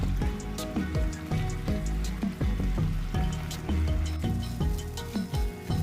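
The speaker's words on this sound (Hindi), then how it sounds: "यहाँ पर हम चिकन को इसका कलर चेंज होने तक फ्राई कर लेंगे।" Small pieces of boneless chicken sizzle and crackle in hot oil in a pan, a steady dense spatter with scattered pops throughout.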